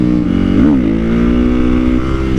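A Honda CRF450R supermoto motorcycle engine revs hard and close, its pitch swooping up and dipping once before settling into a steady high drone as the bike holds a wheelie.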